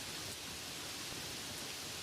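Soft, even hiss of gentle rain falling at night, a faint continuous wash with no individual drops standing out.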